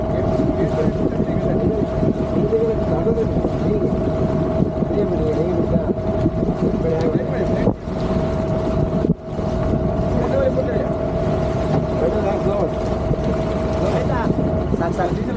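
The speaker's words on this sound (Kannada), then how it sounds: "ಅವಾಗ ಫಿಶಿಂಗ್ ದೊಡ್ಡ ಬೋಟ್ ಇದೆಯಲ್ಲ, ಅದು ಜಾಯಿಂಟ್ ಆಗಿ ಎರಡು ಜಾಯಿಂಟ್ ಆಗಿ ಹೋಗುತ್ತೆ" A large fishing boat engine drones steadily at sea off Kundapura, a continuous loud hum with a constant tone, wind buffeting the microphone and two brief dropouts.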